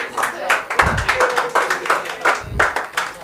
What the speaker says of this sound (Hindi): साई के लिए भी ताली